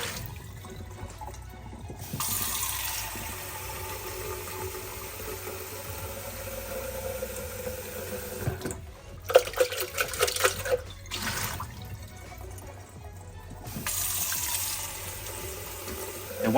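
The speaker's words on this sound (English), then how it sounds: "So first thing I want to do is add the water inside first." Tap water runs and splashes into a Narcissus electric kettle as it is filled and rinsed, with a steady pour that pauses briefly and resumes, with faint clinks of handling in between.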